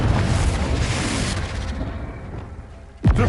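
A Confringo blasting spell explodes in the Hogwarts Legacy video game. A loud, sustained roaring burst fills the clip and fades toward the end, then a sharp crack closes it.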